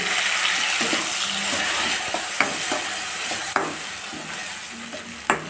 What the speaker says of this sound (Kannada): ರುಬ್ಬಿರುವಂಥ ಚಟ್ನಿ ಹಾಕ್ತಾಯಿದ್ದೀನಿ